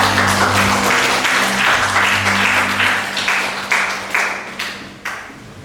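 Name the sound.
classroom applause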